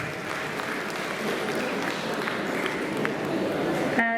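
Guests at the Khalsa College commerce fest are welcomed with a long, moderately distant round of applause, ending with a short electronic tone.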